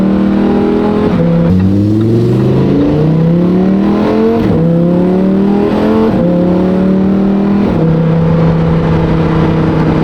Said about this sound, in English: they're so loud and aggressive, and the pops that they make